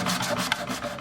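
A hand saw cuts a curtain rod inside an old miter box, making a steady close rasping stroke back and forth with a small clack partway through, heard on its own.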